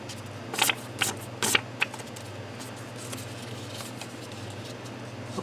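Paper crackles and rustles in a few quick bursts while being folded for a miniature folio, close and fairly faint over a steady low hum, then fades to softer handling.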